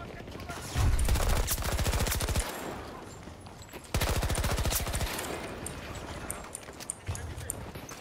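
Automatic weapon fire in Battlefield 2042 rattles in two long rapid bursts, loud and close, with quieter pauses, scattered distant shots and someone talking in between.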